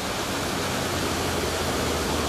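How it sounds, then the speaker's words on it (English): A small waterfall pours into a pond in a Japanese garden, a dense, steady rushing roar heard up close with no other sounds. "A waterfall."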